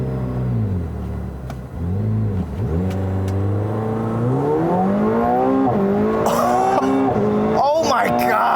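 A 2018 McLaren 720S supercar in track mode brake-torques and launches, its engine rumbling low then rising in a loud climbing rev through gear changes, close inside the cabin with tire noise and an excited voice near the end.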